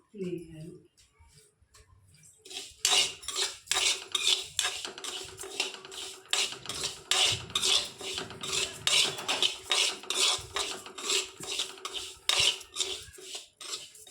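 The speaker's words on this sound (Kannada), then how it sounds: "ಒಂದು 50 ಗ್ರಾಮ್ನಷ್ಟು ಬಡೆ ಸೊಪ್ಪು ತೊಗೊಂಡು ಹುರ್ಕೊಳ್ತಾ ಇದ್ದೀನಿ" Fennel seeds, about 50 grams, roasting in a pan at home, giving a continuous dry scraping and rattling as they are stirred, with clinks of the utensil against the pan and brief speech at the start.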